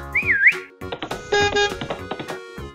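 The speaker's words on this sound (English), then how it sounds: "Can you teach me to whistle like that?" A person whistles a brief rising-and-falling warble near the start, followed by a short melodic whistle amid other clattering sounds.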